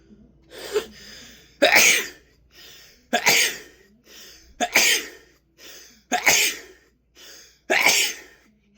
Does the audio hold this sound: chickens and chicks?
no